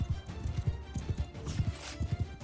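Cavalry horses gallop in a battle in the video game Mount and Blade Bannerlord, with a dense, steady clip-clop of hoofbeats over a continuous background rumble and no speech.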